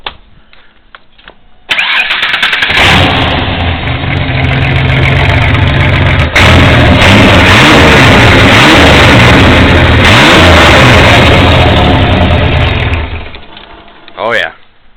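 1990 Ford Ranger with a 4.0 engine and straight pipe exhaust cranks and fires up loud and close, then revs hard several times before dropping off, with a voice briefly heard at the end.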